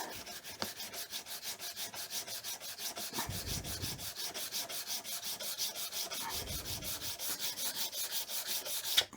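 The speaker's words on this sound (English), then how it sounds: "And then you sand over the top of it." Rhythmic sanding strokes rub back and forth across wood over glue-filled gaps in a laminated spring joint at a steady pace, close and fairly quiet, with no voices.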